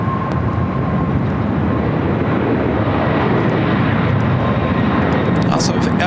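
A jet airliner powers up for takeoff on runway 24 left at LAX, a loud continuous engine roar that holds steady throughout, with air traffic control radio chatter over it.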